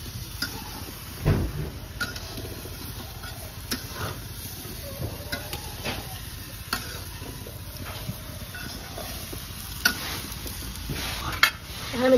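Chopped bottle gourd sizzles gently in a wok while a spatula scrapes and stirs it. A soft, steady frying hiss runs throughout, broken by occasional clinks and scrapes, with no talking.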